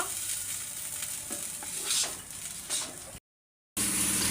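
Shrimp shells frying in a pan with garlic, onion and green chilli, giving a continuous close sizzle with stirring scrapes, cut by a short silent gap before the frying noise returns.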